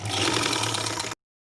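A sewing machine stitches fabric for a sharara or gharara garment, its motor running in a steady, close, loud whir for about a second before cutting off abruptly into silence.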